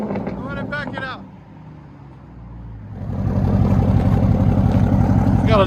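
Dodge Durango SRT 392 HEMI V8 with true dual straight-pipe exhaust, a 2021 model, is heard after a brief spoken line, first dropping to a low murmur and then settling into a loud, close, lumpy idle rumble.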